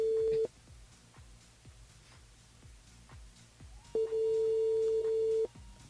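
Telephone ringback tone heard while a call connects on a French radio broadcast: two long steady tones, one at the start and one near the end, separated by quiet with faint clicks.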